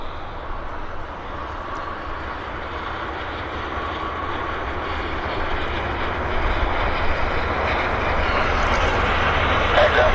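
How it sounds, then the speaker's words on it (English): A Convair propeller airliner's engine starts up at Vancouver airport, a low droning rumble that builds gradually from a distance amid broad airport noise. "we've got engine start on our next Convair."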